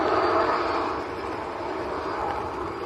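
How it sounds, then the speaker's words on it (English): A Cessna Citation business jet taxiing across the field at Manchester Airport, its engines a distant, steady broadband roar that fades slightly partway through, with no one speaking. "we've got a little citation taxiing out on the other side"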